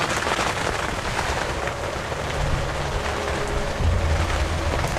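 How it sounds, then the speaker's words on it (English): Steady rain falls outdoors on a hill in northern Missouri, a dense continuous hiss with light wind and a low rumble, even and unbroken with no voices. "It's raining this morning."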